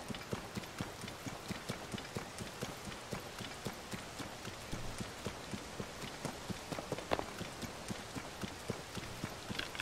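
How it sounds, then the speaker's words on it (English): Steady rain hisses across the whole stretch in the video game Tears of the Kingdom, with regular rhythmic thumps like hoofbeats pulsing beneath it at a moderate, fairly close level. "So much rain."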